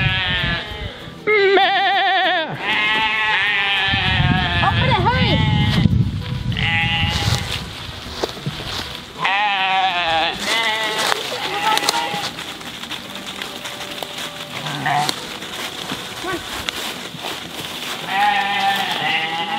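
Sheep bleat repeatedly while being herded and moved on a farm, several animals calling close by in overlapping wavering cries, with someone talking at times and rustling movement underneath.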